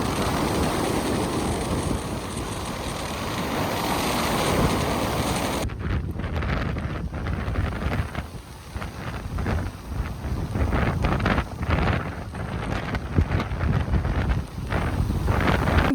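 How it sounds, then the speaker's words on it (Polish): Strong seaside wind buffets the microphone at a resort on the Red Sea coast at Marsa Alam, Egypt, a continuous loud roar with gusting surges and distant surf beneath, no voices. "Dzisiaj bardzo mocno wieje."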